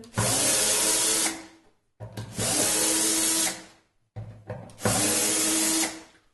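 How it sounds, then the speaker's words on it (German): A power tool, likely a drill or screwdriver, loosens the outer screws on a Sela snare cajon kit in three loud, evenly spaced bursts of whirring, each lasting about a second and a half with short gaps between. "Dazu muss man einfach nur die äußeren Schrauben hier etwas lösen."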